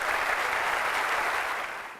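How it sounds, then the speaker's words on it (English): Dense, steady applause from a large audience at a national retail conference, loud and continuous throughout before easing slightly at the end. "Give yourself a cheer and a clap for that."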